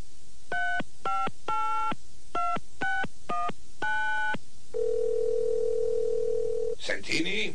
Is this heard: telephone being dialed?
yes